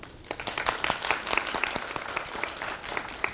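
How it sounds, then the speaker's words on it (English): An audience at a Black Heritage Month celebration claps after a dance performance. The applause is steady and moderately distant, with individual sharp claps standing out over a soft crowd wash. "Let's give a round of applause for Praise and Motion for that amazing piece."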